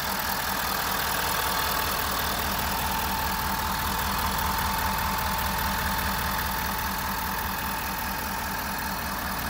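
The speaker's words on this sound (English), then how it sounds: "Truck's super quiet, even though it is a diesel." Ford Super Duty diesel pickup truck idling, a low, even, steady engine hum with a faint rhythmic diesel clatter, heard close and continuous with no talking.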